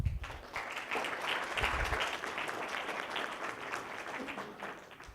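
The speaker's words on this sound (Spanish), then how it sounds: "Un fuerte aplauso para Raúl, por favor." An audience at a behavioral economics lecture applauds to welcome the speaker, a steady, full round of clapping lasting throughout with a heavier burst at the start.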